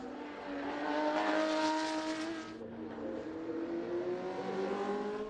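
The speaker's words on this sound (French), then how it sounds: "Une Ferrari légendaire, la P3 de 1966" A 1966 Ferrari P3 race car at the Le Mans Classic, its engine droning loud and near with rising and falling revs as it accelerates, shifts, and carries on past.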